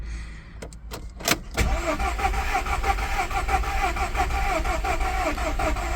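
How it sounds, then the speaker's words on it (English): A car engine cranks in several quick bursts, then catches and settles into a steady, loud running drone while a cylinder pressure test is under way. "just try to start your car"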